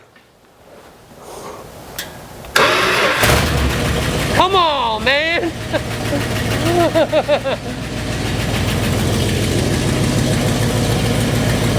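An old Dodge Coronet engine cranks and starts for the first time in over 20 years, then settles into a loud, rough, close idle that runs steadily while someone briefly speaks over it.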